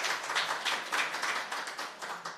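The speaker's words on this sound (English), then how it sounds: "Can we give him another round of applause" A short, quiet round of clapping for Chef Bryant at the Nevis Mango Festival launch, a scattered audience applauding steadily for a couple of seconds.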